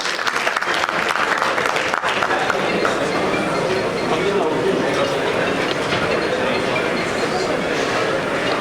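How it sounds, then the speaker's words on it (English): Sustained, dense applause from a panel-discussion audience fills the whole stretch at steady loudness, a broad wash of clapping with a faint voice mixed in. "A big round of applause."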